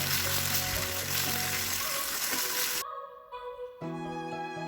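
Salt, asafoetida and turmeric sizzle in a pan as they are stirred for white lemon pickle. The hiss is loud and continuous, then cuts off abruptly and gives way to a quieter, steady tonal hum.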